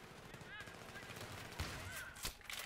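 Shotgun blasts fire in Battlefield 3 gameplay: a few sharp, punchy bursts spaced apart at moderate level over busy game noise, with some faint speech-like sound in the mix.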